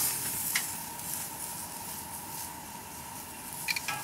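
Vegetables sizzle steadily on a grill turned up as hot as it will go, a soft continuous hiss with faint crackles and a couple of small pops, fairly quiet and uninterrupted throughout.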